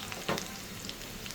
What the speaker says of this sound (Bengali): পেঁয়াজ কুচি দিয়ে নেড়ে নেব ভালো করে